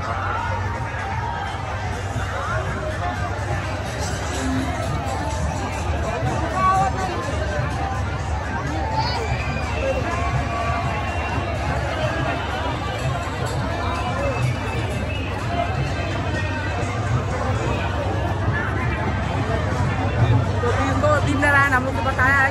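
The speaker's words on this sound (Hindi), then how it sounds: "आज आखिरी दिन है तो कितना भीड़ है एक बार देख लीजिए" A crowded fair (mela) on its last day fills the air with a steady, close hubbub of many voices. Chatter, shouts and movement carry on without a break, and one person speaks nearby over the babble.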